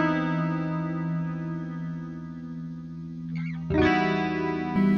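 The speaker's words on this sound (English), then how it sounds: "so I enabled that chorus, which helped it sound like this." Clean eight-string electric guitar through the Archetype: Petrucci chorus, a wide shimmering tone: a held chord ringing steadily, then a fresh strum near the end, close-miked and alone.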